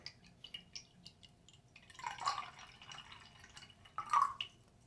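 Water comes out of a 3D-printed teapot in two brief splashy trickles into a vessel, quiet and close, with a few soft drip-like ticks before them.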